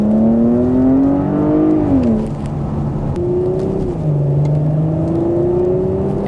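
A 2020 Porsche Cayenne Coupe accelerates hard from inside the cabin, its engine note climbing steadily through the gears with a brief dip at each shift, loud and continuous with no talking.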